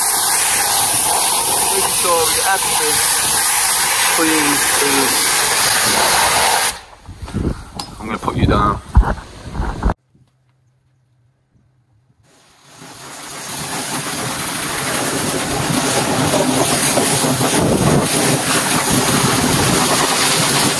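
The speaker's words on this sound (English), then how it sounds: "So obviously you just wanna test your jet wash." Pressure jet wash spraying water over a Ferrari Roma during a safe wash, a loud steady hiss filling most of the clip, broken by a short quiet gap, with a person talking over it.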